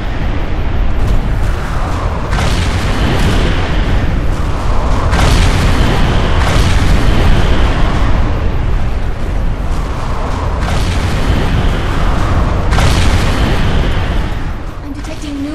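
Incoming artillery fire pounds the ground in the Defiance video game. Heavy booming blasts roll in one after another and overlap into a loud, continuous barrage, with a voice speaking over the din.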